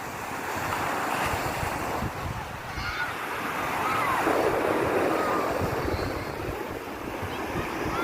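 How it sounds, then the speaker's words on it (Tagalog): Ocean waves break and wash continuously at Puka Beach, a broad, steady surf roar with wind buffeting the microphone and rising and falling swells. "Ganda ng alon."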